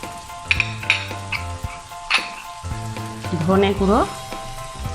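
Ground spices frying with softened tomato in a pan, a steady close sizzle under a woman's speech, with occasional stirring clinks.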